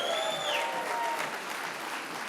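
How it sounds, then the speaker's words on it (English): Applause from the audience at the 2021 Scottish Health Awards ceremony, a steady broad wash of clapping filling the whole moment at a moderate level, with some whistling tones near the start. "Let's have another round of applause for Orkney."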